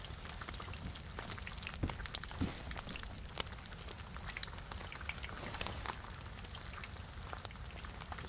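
Heavy rain in the DayZ video game falls steadily, with a dense hiss of raindrops and scattered sharper patters at an even, moderate loudness and no talking.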